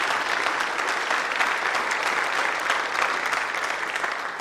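Delegates at a Church of England General Synod session applaud in a sustained, dense round of clapping that carries evenly to the end.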